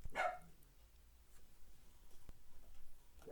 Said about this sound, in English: Of course, the dog's barking at somebody driving by.